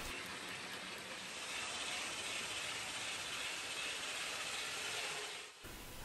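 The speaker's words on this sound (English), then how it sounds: "Once the passenger train leaves the station, the goods train will enter it." Model trains running on a layout controlled by iTrain, giving a steady, even mechanical whirring and rattling that holds constant before cutting off abruptly near the end.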